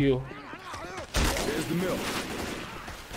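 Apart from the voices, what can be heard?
gunfire in the Left 4 Dead 2 video game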